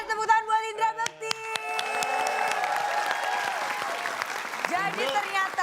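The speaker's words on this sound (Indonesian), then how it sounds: "Kita kasih tepuk tangan buat Indra Bekti." Audience applause for Indra Bekti at an Indonesian comedy show, a dense wash of clapping and cheering from a crowd that builds and holds steady while voices talk over it.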